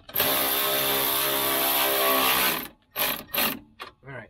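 A powered ratchet tightens hold-downs on 48V golf cart batteries: one long, loud mechanical buzz, then several short bursts as it snugs down, close up with no talk.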